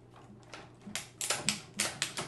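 A knob cutter snips through a dead, dry barberry bonsai branch, giving a quick series of crisp, faint crunching clicks close up.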